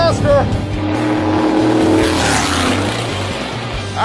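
The Mazdarati race car's engine roars loudly as it accelerates on a run at elevation, a dense, sustained drone with a steady throbbing pulse, up close, while a voice speaks briefly over it.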